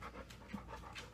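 A big puppy panting close by, quick rhythmic breaths repeating steadily in a quiet indoor room.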